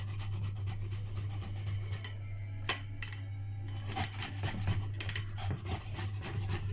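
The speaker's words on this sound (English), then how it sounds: "I need to grate this. Ginger." Fresh ginger is grated for a homemade Filipino barbecue marinade, making uneven rasping scrapes in short bursts over a steady low hum, close and moderately loud, with no talking.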